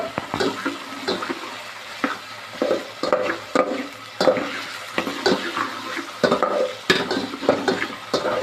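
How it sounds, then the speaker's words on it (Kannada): Onions and tomatoes fry in a pan for a pasta sauce while a spoon stirs them, making rhythmic scraping strokes over a close, steady sizzle. "ಸೊ ಇದು ಈ ಆನಿಯನ್ ಮತ್ತು ಟೊಮ್ಯಾಟೊ ಫುಲ್ ಜ್ಯೂಸಿ ಆಗೋ ತನಕ ನಾವು ಸ್ಟೀರ್ ಮಾಡಬೇಕು."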